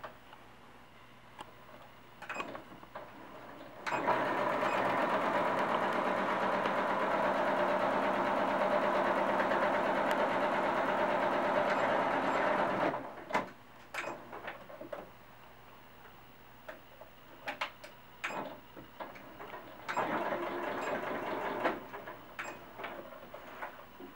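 Electric sewing machine stitching a quarter-inch seam on a cloth doll, a steady loud whirring run of about nine seconds, then scattered clicks and handling before a shorter second burst of stitching.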